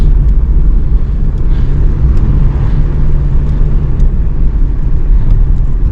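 A car drives along a forest road in Kashmir, heard from inside as a loud, continuous low rumble of engine and tyres with faint ticks and rattles, no talking.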